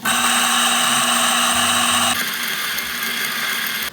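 A Lagom P64 or DF64 coffee grinder runs loudly and steadily at close range with a dense, whirring burr grind, then drops to a lower, rougher hum partway through as the beans clear the burrs.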